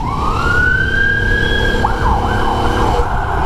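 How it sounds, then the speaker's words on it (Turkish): A loud ambulance siren wails, sweeping up and holding a high tone, then dips and warbles, over a steady rumble of nearby city traffic in Bursa, Turkey. "Ambulans geliyor."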